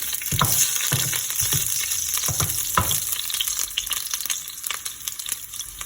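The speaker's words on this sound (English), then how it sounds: "once the jeera is starting to splutter, at this time we'll add 1 green chili which we have split" Cumin seeds spluttering in hot oil with a split green chili give a loud, busy frying sizzle, punctuated by sharp pops and stirring scrapes, close and continuous with no talk.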